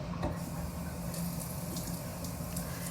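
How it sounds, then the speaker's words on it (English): Tap water running into a kitchen sink while making meatballs, a steady hiss that holds for the whole stretch with no talk. "I'm gonna start the water."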